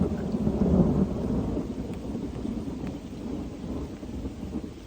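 Thunder rumbling during a thunderstorm beside a pond, a long low roll that swells at the start and fades, with steady rain hiss underneath.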